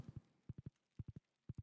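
A horse walks in a farming video game, its hooves making faint, soft clip-clop beats in regular groups of three, steady and alone.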